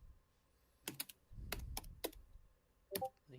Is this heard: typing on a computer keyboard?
yes